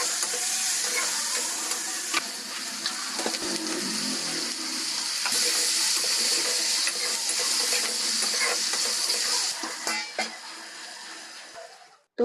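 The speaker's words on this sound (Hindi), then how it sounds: "उधर कुंदरू की सब्जी मम्मी ने छौंक दी है, बस ऐसे ही सिंपल से मसाले डाल के" Ivy gourd curry tempered with simple spices sizzles and crackles steadily in a hot pan, a dense continuous frying hiss with occasional clinks and stirring knocks, close by, fading toward the end.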